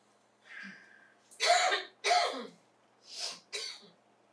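A person coughs and clears their throat several times, close by, in irregular bursts separated by short pauses.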